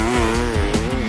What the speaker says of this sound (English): The pressure is on as Eric revs the bike.